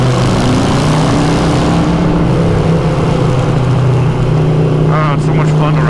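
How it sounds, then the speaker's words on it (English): A Harley-Davidson Iron 883 motorcycle engine drones loud and close at a steady, deep pitch while riding, with a voice coming in briefly near the end. "Back up and just give it a little bit extra."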